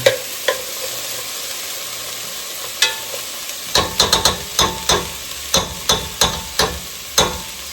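Diced garlic cloves going into a pot for kale soup. The pot sizzles softly while a utensil stirs, scraping and clinking against it about a dozen times in a steady run.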